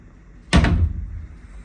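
A wardrobe door in a superior king room at the Bayview Hotel in Georgetown, Penang, swings shut with a single close thud and a short rattling tail, alone in a quiet room.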